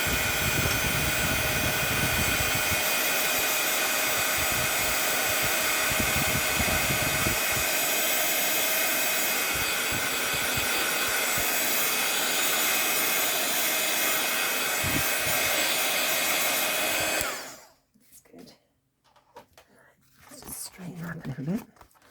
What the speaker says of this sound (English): I'm going to get my gun and give it a bit of a heat blast.